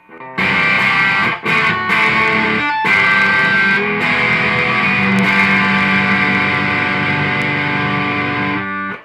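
A heavily distorted electric guitar through a Soviet-made distortion pedal rings out loud and sustained, with chords held and restruck after brief pauses, no talking.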